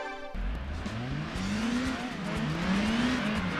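Toyota car engine in the racing video game Gran Turismo 2 revving up, a rising, whining engine tone that climbs and holds, loud and close, with no talk.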